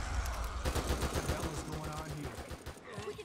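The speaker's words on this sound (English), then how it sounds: "Keep shooting until they're dead or we run out of ammo." Rapid gunfire from a survival horror shooter, The Evil Within 2, with dense bursts of shots and impacts mixed with game sound and voices talking over the action.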